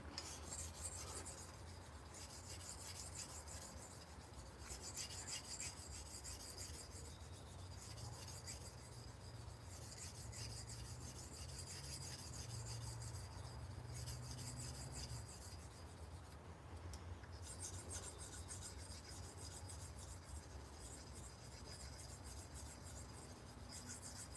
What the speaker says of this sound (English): sound that the knife's making on a stone